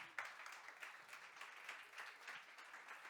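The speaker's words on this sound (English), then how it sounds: "vos applaudissements, s'il vous plaît." An audience in a hall applauding during an ISPO presentation at a corporate event, a sustained wash of many hands clapping, distant and faint but steady throughout.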